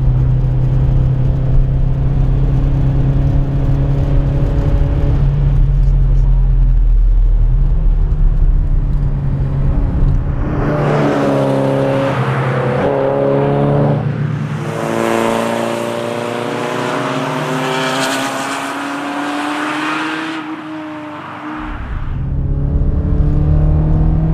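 A car engine drones and revs up and down through gear changes on a race circuit at Lurcy-Lévis, loud and close from inside the vehicle, with wind and road noise.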